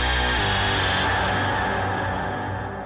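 A large, washy cathedral reverb tail rings out and slowly decays, its bright upper shimmer dropping away first as the sound fades.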